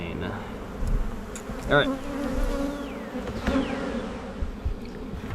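A honey bee swarm buzzes steadily around a newly housed hive, with individual bees passing close by in brief louder drones and a few quiet words spoken.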